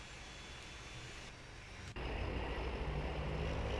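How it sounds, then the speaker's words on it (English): A steady low rumble, then an aircraft engine in a flight video game catches abruptly and settles into a louder, constant droning hum with no voices. "Let's start the engine up then."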